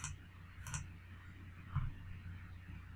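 Two or three faint computer mouse clicks, single sharp ticks spaced apart against a quiet background with no talk, from deleting ads on a YouTube settings page.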